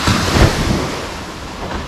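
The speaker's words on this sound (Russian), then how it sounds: "Вот так выглядит пляж в отеле." Sea waves wash onto the beach of the Pullman Khao Lak resort in Thailand, a loud, close surge with rushing wind noise on the microphone, swelling at first and then easing off.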